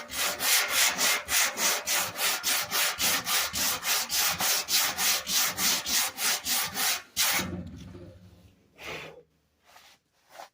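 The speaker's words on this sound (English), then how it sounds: "we're starting to sand paint now, right there" A sanding block works back and forth over paint on a car's thin sheet-metal body panel. Around thirty quick, even, rhythmic rasping strokes sound up close, then stop, leaving a few scattered scuffs.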